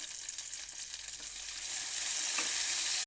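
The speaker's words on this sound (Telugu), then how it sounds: "కాసేపు వేగనివ్వాలి." Green chilies, peanuts and tamarind frying in a pan give a continuous bright, hissing sizzle that swells a little toward the end, close and steady with no voices.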